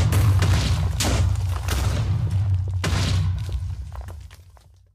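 Bombs explode in a Minecraft animation, heavy booming blasts with deep rumbling low end, several loud thuds in a row that fade out toward the end.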